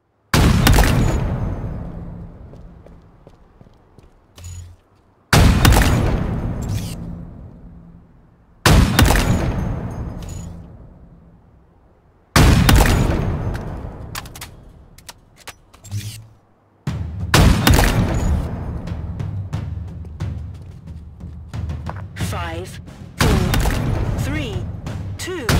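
S7 sniper rifle fire in Halo Infinite: six heavy, booming shots spaced several seconds apart, each trailing off in a long echoing decay, with spoken announcements in between.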